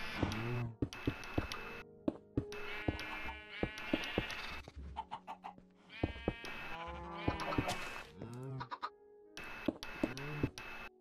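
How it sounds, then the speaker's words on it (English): Sheep in the Minecraft video game bleat over and over on a farm, their wavering cries overlapping near and loud for several seconds with short gaps between calls. "So the sheep are eating all the grass in there."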